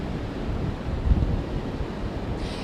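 Huge storm waves and strong wind along the Lake Michigan coastline, a steady loud roar of surf and gusting wind buffeting the microphone, with no voices.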